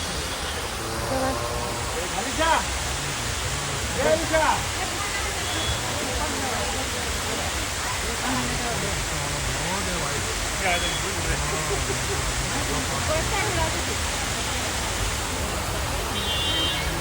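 A waterfall at a tourist spot in Chikmagalur, India, rushes in a loud, steady broadband roar that runs continuously throughout, with faint voices of people mixed in.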